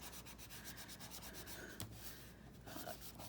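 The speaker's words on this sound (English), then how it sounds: "keep rubbing it, keep playing with it, because it wants to curl up as it gets wet" Steady rubbing of a glue-stick-coated vellum sheet pressed onto a desktop calendar card, a continuous close dry scuffing with a rhythmic back-and-forth texture and no talking.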